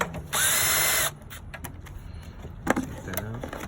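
A power tool, apparently a drill or ratchet driver, briefly spins out a 10mm bolt on the valve cover of a 2002 Acura RSX engine, followed by metallic handling clinks and rattles of the bolt and tools.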